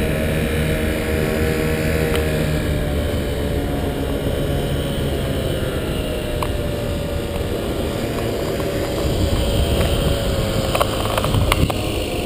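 Model aircraft motors, flown as "The blue" F4, drone steadily and loud as they come toward the listener and pass, a continuous buzzing hum that swells slightly near the end.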